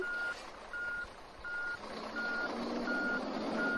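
Reversing beeper of a truck in the video game Truckers of Europe 3, six evenly spaced high beeps at a steady rhythm, fairly quiet over a low engine drone with no talk.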